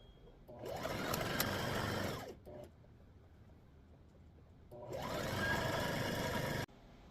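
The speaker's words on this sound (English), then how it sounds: "back stitch over the strap like 2 or 3 times, so that way it's nice and durable" A sewing machine back stitching over an apron strap runs in two steady, fast whirring bursts separated by a short quiet pause, close up and alone.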